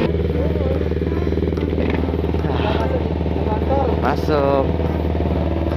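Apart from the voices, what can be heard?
motorcycle engine running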